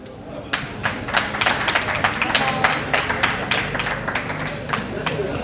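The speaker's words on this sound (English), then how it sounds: "Round of applause for our treasurer." Applause for a treasurer at a ceremony, a crowd clapping in a dense, steady patter of sharp hand claps, fairly close and sustained throughout.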